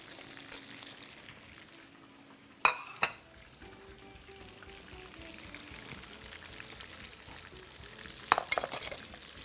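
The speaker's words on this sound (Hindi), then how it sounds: "चूल्हे की लो को हमने खोल दिया ताकि अच्छी तरीके से चिकन फ्राई हो जाए" Chicken fries in a pan on a raised flame with a low, steady sizzle, punctuated by a few sharp metallic clanks of utensil on pan and some light stirring.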